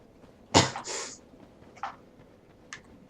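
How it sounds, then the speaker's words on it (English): A single harsh cough bursts out, followed by a couple of fainter throaty coughs spaced apart in a quiet room, during Dark Souls gameplay. "Sorry for coughing. I'm kind of sick as well."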